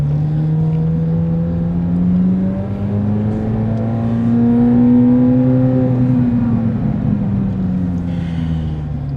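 C8 Z06 Corvette fitted with a Soler throttle body driving off, a loud, steady engine drone rising and falling in pitch as it pulls away, close and alone.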